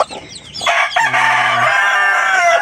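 Chickens and chicks on a backyard farm, with a rooster crowing clearly and nearby over steady clucking and chick peeps, the crow holding a long drawn-out tone.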